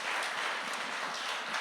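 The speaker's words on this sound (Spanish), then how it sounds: "Le damos un aplauso al Señor, amén." A church congregation at a Spanish-language service claps together in praise, a dense, steady wash of applause that holds evenly throughout with no talking over it.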